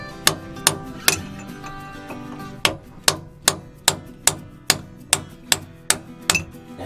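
Metal hammer whacks seating shaft packing on a boat, struck in the water during a repair on a leaking boat: a series of about a dozen sharp, ringing metallic blows at a fairly steady, close, loud pace.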